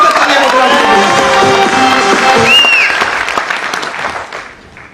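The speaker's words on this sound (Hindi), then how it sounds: "जबरदस्त तालियां मोतीलाल जी को।" Sustained applause from a seminar audience at a motivational speech, dense clapping throughout that begins to thin and fade near the end.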